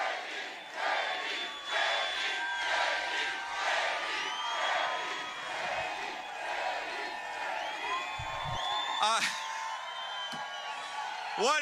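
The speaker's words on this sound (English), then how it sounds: "He is addressing the crowd. You can see they are cheering him on." Rally crowd in Butler, Pennsylvania cheering for JD Vance, rhythmic waves of chanting and whoops from a large outdoor audience, with a few nearer shouts and whistles toward the end.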